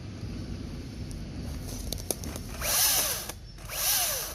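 A Makita electric chainsaw runs close by, a steady motor whine with two rising and falling bursts as it revs up, fairly quiet overall.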